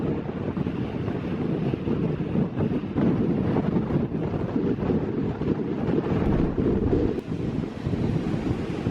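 Wind gusts steadily at a beach, with constant roaring buffeting across the microphone and no pauses or voices.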